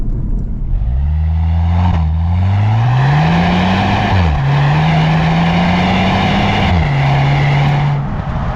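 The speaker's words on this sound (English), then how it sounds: "Nice exhaust, pops and bangs. It's not too loud." A 2025 Skoda Octavia RS accelerates hard, its exhaust drone climbing steadily through several gear changes, each marked by a brief dip before pulling again, loud and close from inside the car.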